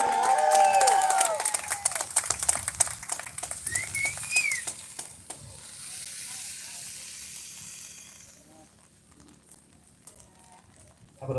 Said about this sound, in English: How about another round of applause for our wonderful senator from the 33rd District?